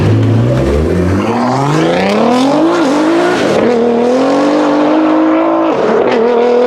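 A loud six-cylinder exhaust on a 2025 Dodge Charger Six Pack revs close by, its throaty tone climbing steadily in pitch, then holding a high, strained note.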